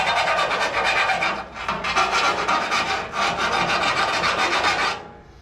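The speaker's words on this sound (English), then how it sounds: "Take some burrs off of it there and clean it up a bit." Rapid, continuous rasping as the burrs are cleaned off a freshly drilled steering sector shaft hole on a hot rod steering build, loud and close, with two brief pauses and no talk.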